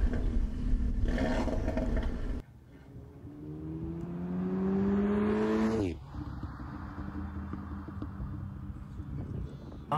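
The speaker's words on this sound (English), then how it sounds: "I'm stuck on that sort of lappy kind of misfiring of the engine." A car engine revs up unevenly, then abruptly cuts and drops to a rough, sputtering idle with a choppy, misfiring rhythm.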